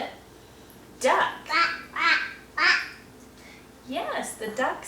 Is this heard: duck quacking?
yes